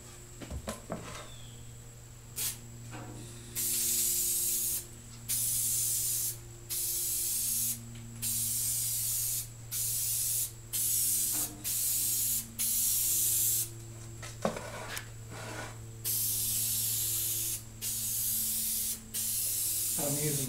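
Spray-on contact cement hisses from a can onto new carpet padding in a long series of close, steady bursts with brief gaps, a low hum running underneath and occasional clicks and handling noises.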